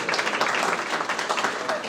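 A convention audience breaks into applause, a dense even wash of many hands clapping, moderately loud and continuous.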